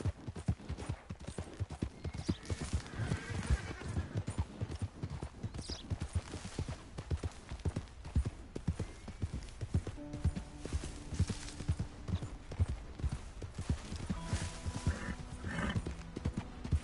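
Horse hooves clip-clop in a steady quick rhythm throughout, close and clear, with a brief whinny-like tone later on and no talk.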